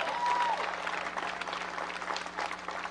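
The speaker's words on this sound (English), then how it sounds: "Give them another big round of applause." Applause from a crowd at an outdoor ribbon-cutting at a Washington arts school is a steady, moderately distant patter of many hands over a faint constant hum, with a brief tone near the start.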